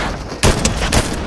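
Two sharp, loud gunshots in Fortnite, close together about half a second apart, standing out over a quieter game background.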